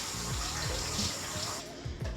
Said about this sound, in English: Just washing off all that dirt.